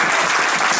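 A congregation applauds in church during a French-language sermon, a brief, dense, loud wash of clapping from many people.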